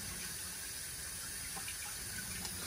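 Warm water running steadily from a tap over a bar of soap being rinsed, a faint continuous splashing hiss.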